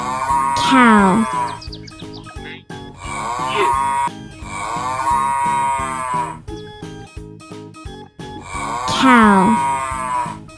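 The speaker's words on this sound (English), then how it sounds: "Cow." Three long, loud cow moos, each a drawn-out low bellow separated by short pauses, clear and close with no talking.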